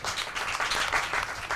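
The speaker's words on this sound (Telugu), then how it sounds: "ఇప్పుడు కొట్టండి చప్పట్లు" A church congregation claps together during a Telugu sermon, a loud, dense burst of applause that carries on evenly throughout.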